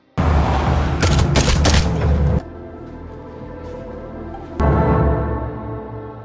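Bursts of gunfire and booms from a prison gangster film come loud and close, a dense volley, then a quieter stretch before another loud burst near the end.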